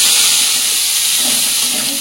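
Capsicum and onion fry in hot oil in a pan with a loud, steady, broad hiss and sizzle that holds evenly throughout without a break.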